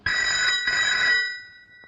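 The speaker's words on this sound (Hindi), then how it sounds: "देखो किसका फोन है।" An old-style telephone bell rings in two bright, metallic bursts close by, then fades into a fading shimmer.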